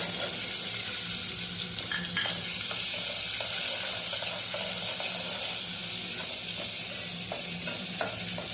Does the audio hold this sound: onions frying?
yes